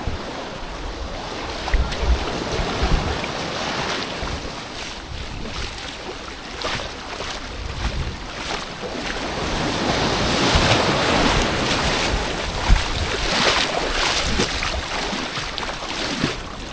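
Strong waves crash steadily onto a beach, a continuous roaring surf with wind buffeting the microphone and surges of louder breakers throughout.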